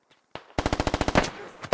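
Gunfire in the tactical shooter video game Squad: a single shot, then a rapid evenly spaced burst of about ten automatic rounds, close and loud, ending with one more crack.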